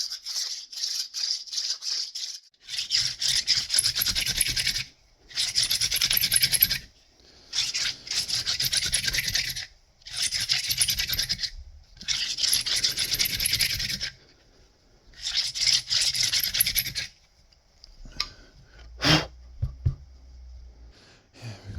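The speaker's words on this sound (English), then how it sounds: "so that I could use them as hand drills to get through here" Stone-tipped hand drill with a wooden shaft grinding through stone, a loud rasping scrape in repeated strokes of about two seconds each separated by short pauses, close up, ending with a few lighter taps and scrapes.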